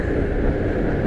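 Steady broadband rumble inside a moving PKP Intercity TLK passenger train, a constant low roar of the carriage in motion with no distinct clicks or voices.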